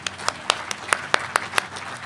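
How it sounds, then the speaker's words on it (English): An audience at a college alumni center dedication ceremony claps in quick, even rhythm, with about nine crisp, distinct claps at moderate volume and no talking over them. "One more clap."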